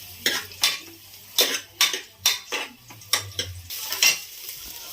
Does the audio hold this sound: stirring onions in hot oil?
yes